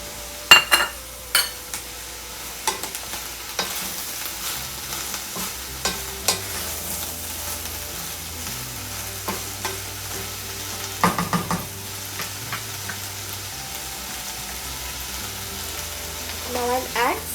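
Tofu, broccoli and mixed vegetables stir-frying in a pan for honey garlic stir fry, a soft continuous sizzle broken by occasional spatula clinks and scrapes against the pan, moderately close.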